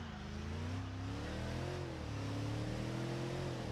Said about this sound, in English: as you can hear, it does have more of that V8 sound.